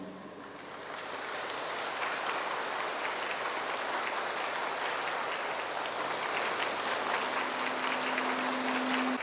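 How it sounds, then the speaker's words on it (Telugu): A meditation group at a Mahashivaratri initiation gathering breaks into sustained, dense applause that swells in the first second and holds steady as one continuous wash of clapping. "పూర్తిగా అందరూ ధ్యాన స్థితి నుంచి బయటకు వచ్చే వరకు 1 మినిట్ గట్టిగా చప్పట్లు."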